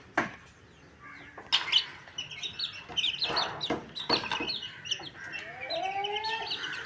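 Home-hatched native chicks and hens cluck and cheep nearby in scattered bursts while being fed worms, with high peeping calls rising toward the end against a quiet background.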